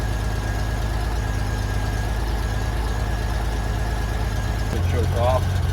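The engine of a 1994 Honda GL1500 Goldwing motorcycle idles steadily after a cold start on choke, a smooth, constant low rumble close by, with a voice briefly speaking near the end.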